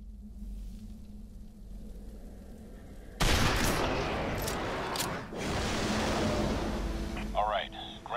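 A loud crack from a Pacifican sniper rifle in the PS3 game Fracture, fired at towers, breaks in suddenly after a quiet stretch. A noisy wash and a second hit follow, and a short tonal game effect comes near the end.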